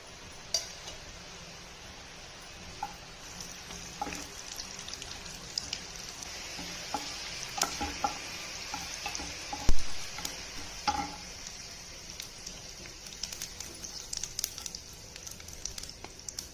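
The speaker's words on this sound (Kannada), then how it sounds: "ಒಗ್ಗರಣೆ ಇದು ಸಾಸಿವೆ ಉದ್ದಿನಬೇಳೆ ಕಡಲೆಬೇಳೆ ಜೀರಿಗೆ ಹಾಕ್ತಾಯಿದ್ದೀನಿ" Mustard seeds, urad dal, chana dal and cumin sizzling in hot oil for a tempering, a steady crackling hiss with scattered pops and spatters throughout, no voices.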